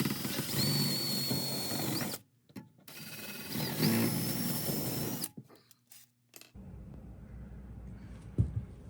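A power drill drives screws to fix an attic ladder in place, with short whirring bursts separated by brief pauses, close up and moderately loud, then quieter handling noise.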